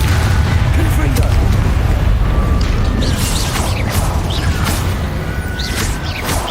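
Confringo fire spell blasts in Hogwarts Legacy combat, loud booming bursts layered over dense continuous battle noise, with sharp crackling impacts scattered throughout.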